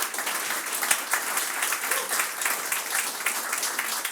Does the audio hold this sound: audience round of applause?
yes